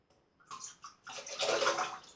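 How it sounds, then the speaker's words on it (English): Water swishes and splashes briefly as a shaving brush is plunged and worked in it, a couple of soft gurgling bursts up close. "Squeeze it out and just put it back in the water."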